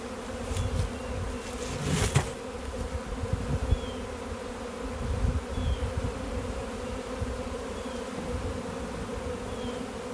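A honeybee swarm buzzes in a dense, continuous drone close by while being caught a few feet off the ground, with a brief knock early on.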